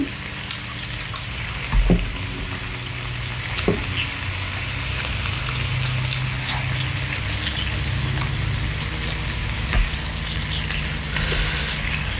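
Pork belly sizzling on a grill, a steady hiss and crackle that runs the whole time with a few sharp pops and knocks, close and fairly loud, with no talking.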